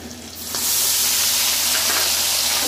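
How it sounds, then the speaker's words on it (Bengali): Onion paste and green chillies hitting hot oil in a pan, a loud continuous sizzle that swells suddenly and then holds steady, close and with no talking. "সব কিছু একটু ভাজা ভাজা করে দেবো।"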